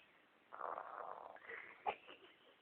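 A baby imitates snoring, a short wheezy snort-like rasp repeated a couple of times at close range, then a brief sharp snort near the end, with no other voices.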